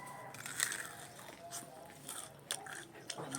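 Someone bites into crispy fried food with a few soft, close crunches, quiet and brief, while people talk around it.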